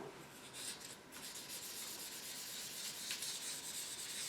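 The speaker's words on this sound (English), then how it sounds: "I'm taking a little bit of mineral oil and I'm doing some wet sanding on all the high spots" Wet sanding with mineral oil on the high spots of a Chelsea Super 5 radio cabinet, a soft, steady rubbing rasp that continues quietly and evenly with no talking.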